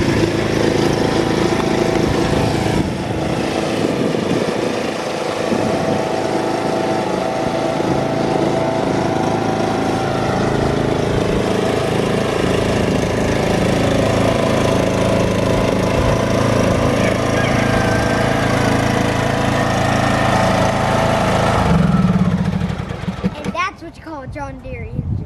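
A John Deere lawn mower engine runs steadily and loud for over twenty seconds, a continuous droning roar with voices talking over it, then cuts off near the end.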